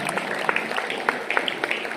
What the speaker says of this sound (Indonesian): Tepuk tangan buat Pak Edi Haryono ini.